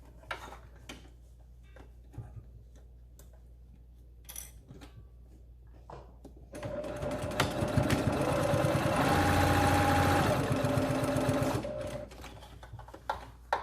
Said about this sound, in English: So now we're just going to top stitch around the whole mask.